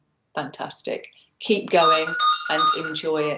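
A mobile phone rings during an online talk about caring, its tone sounding under a person speaking steadily throughout.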